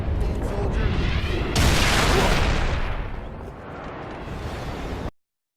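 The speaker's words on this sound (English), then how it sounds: "except when a grunt throws a grenade under it and upends it" Grenade blast under a Warthog vehicle in the shooter game Halo Reach, a loud sudden explosion with a rushing roar that fades into rumble before cutting off abruptly.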